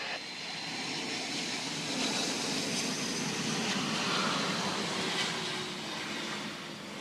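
Aircraft engine spinning up at Barbados airport, a steady broad roar that holds at an even level throughout, heard at a distance with no talk.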